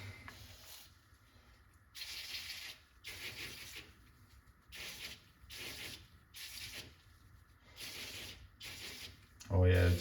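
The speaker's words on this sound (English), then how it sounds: "So let's just give this one more spray" Short hissing bursts of cleaner sprayed onto an aluminum part repeat at an uneven rhythm, each spritz crisp and close, with faint rubbing between them and a brief knock at the end.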